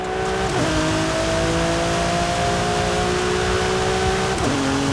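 An Italian exotic sports car accelerates hard in a video game, its engine droning loud and steady with rising pitch, broken by two quick gear shifts into seventh and eighth, the last dropping to low revs.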